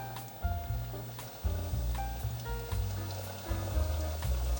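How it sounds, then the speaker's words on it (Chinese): Vegan mock fish dropped into a pot of hot oil, a steady crackling, sizzling fry heard close under gentle background music. "锅内放入足够的油，油热了，放进来炸。"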